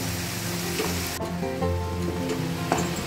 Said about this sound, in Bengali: পেঁয়াজ বাটাটা দিয়ে অল্প খানিকক্ষণের জন্য আমি এটাকে ভাজা ভাজা করে নেব